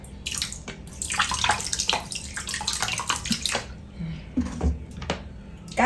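Pork intestines being washed by hand in water with salt and vinegar, giving close, continuous splashing, sloshing and squishing sounds with occasional drips, steady throughout.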